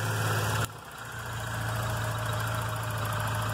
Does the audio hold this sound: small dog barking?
no